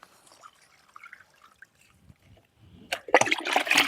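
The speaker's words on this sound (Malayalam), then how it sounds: "ഇതേപോലെ ചുറ്റും ഒഴിച്ച് കൊടുക്കുക." Liquid fertiliser made from fenugreek and groundnut cake is poured around a tomato plant. Faint dribbles give way to a louder, steady splashing pour at the end.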